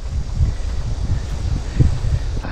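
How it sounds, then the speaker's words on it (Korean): Gusty wind buffets close by in a seaside pine forest, a low rumbling blow with soft rustling, rising and falling in short surges. "아우, 느껴지세요, 바람소리?"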